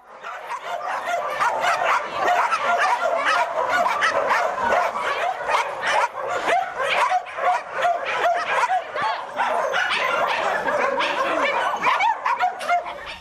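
A loud, continuous chorus of many dogs barking, yipping and whimpering together at a dog shelter, with some dogs near and others farther off, overlapping without pause.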